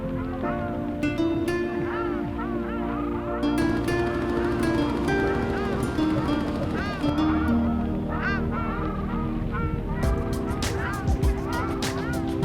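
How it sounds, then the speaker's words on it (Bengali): Wild ducks call repeatedly in a lively chorus of overlapping quacks and honking notes, some close and loud, others further off, sounding throughout. "আমাদের আজকের পর্ব এই বুনো হাঁস নিয়ে।"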